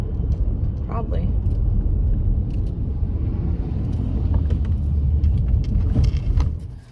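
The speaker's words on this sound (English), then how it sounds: "here's the truck that cleaned up the cemetery" A garbage truck that had been clearing a cemetery passes by. Its heavy engine rumble builds and stays loud, then drops away at the end, while people talk over it.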